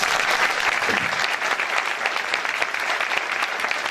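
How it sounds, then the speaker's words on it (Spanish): Sustained audience applause for invited guests at a political economy panel event, dense and steady throughout at full loudness, with no talk over it. "Fuerte aplauso a nuestros invitados"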